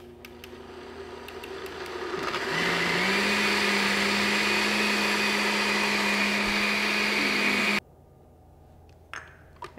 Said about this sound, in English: put it on the blender